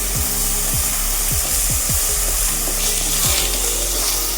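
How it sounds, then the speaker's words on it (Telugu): Ginger garlic paste sizzles and fries with onions in a pot for cooker ghee biryani, a steady loud crackle with repeated stirring scrapes throughout. "ఉల్లిపాయలు వేగిపోయినాయి కదా, అల్లం వెల్లుల్లి పేస్ట్ వేస్తున్నానండి"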